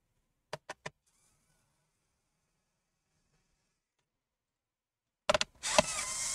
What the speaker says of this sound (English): my electronic screwdriver has no more juice on it